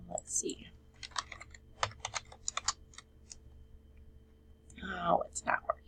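Quick bursts of clicky keyboard typing, close and crisp, with a soft murmuring voice at the start and end.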